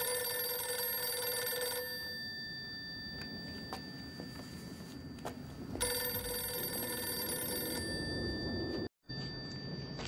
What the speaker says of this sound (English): What am I supposed to do with a ringing phone?